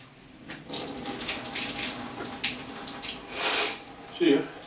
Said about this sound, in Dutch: Het water moet erop.